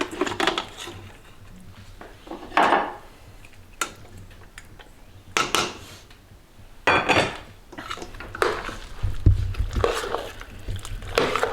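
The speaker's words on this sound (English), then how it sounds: "It's a little bit hard to stir because it's so thick and cheesy and gooey." Thick cavatappi pasta in cheese sauce is stirred in a pot, with intermittent scraping and clinking of a utensil against the metal, close by and in irregular bursts, without talk.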